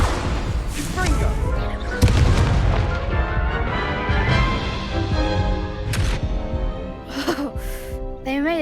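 A Confringo blasting curse in Hogwarts Legacy goes off amid heavy game combat, sharp booming blasts around the 2 and 6 second marks over dense music and effects, with a voice speaking over the fight.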